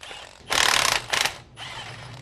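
A hand ratchet backs out the 11mm bolts holding the front drive shaft to the differential on a 2014-2018 Silverado, giving two close, loud bursts of fast clicking separated by a brief pause.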